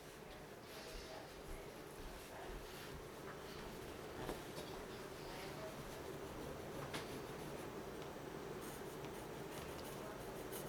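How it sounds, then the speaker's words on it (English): Pen or pencil tracing a pattern onto a piece of leather for a handmade sunglasses case, a steady soft scratching that runs the whole time, close and fairly quiet, with no talking. "So here I'm gonna trace this on this piece of leather."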